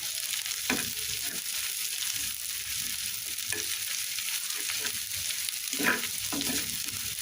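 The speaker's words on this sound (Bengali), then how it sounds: "এখানে আমি এই যে পেঁয়াজ আর মরিচ দিয়ে একটু ভেজে নিচ্ছি" Onion and chili fry in mustard oil in a pan with a steady, fairly soft sizzle, broken by a few scraping stirs of the spoon. No one talks.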